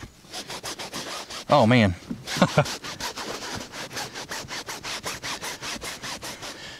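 Repeated back-and-forth rubbing of a greasy surface treated with degreaser, a steady rhythmic scrubbing with a brief pause as a person speaks midway.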